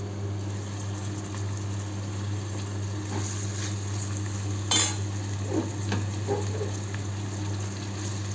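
Onions frying in a pan over a low gas flame, a soft steady sizzle with occasional light stirring clicks and scrapes under a constant low hum.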